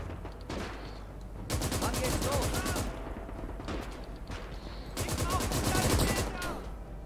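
Double machine gun firing in the Gates of Hell war game, with two sustained rapid bursts of gunfire separated by a brief lull over a low constant rumble, loud and close.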